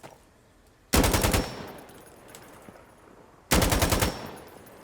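Two separate bursts of rapid automatic gunfire in the shooter game Sandstorm, each about half a second of loud, fast shots, with a quiet pause between them.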